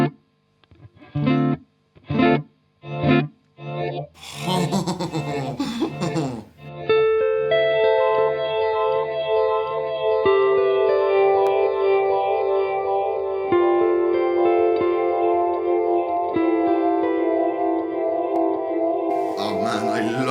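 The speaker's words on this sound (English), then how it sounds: "we've got pad echo, which is like a dreamy kind of echo for some of the ambient stuff" An electric guitar plays through a Boss DD-200 delay pedal set to its pad echo mode. A few short, plucked stabs are followed by sustained notes that bloom into a smooth, dreamy, long-trailing echo wash.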